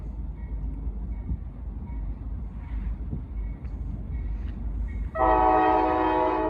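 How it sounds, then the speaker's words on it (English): A locomotive horn sounds at a railfanning spot, starting with faint short toots over a low engine rumble and then swelling into a loud sustained chord blast near the end. "I think he's just playing with the horn at this point."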